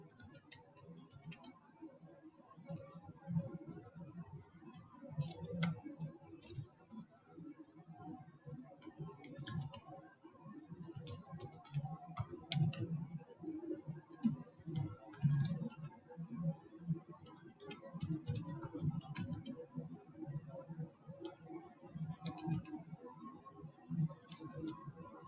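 Passphrase typed on a computer keyboard: soft, steady key clicks with occasional louder taps, quiet and close, running continuously over a low background hum with no speech.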